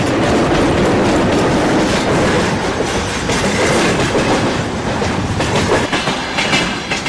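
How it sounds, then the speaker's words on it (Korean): A freight train on the Trans-Siberian Railway rolls past up close, a loud continuous rumble with rhythmic clatter of wheels over rail joints throughout. "쉴 새 없이 달리는 화물 열차들이 교차하고 있다"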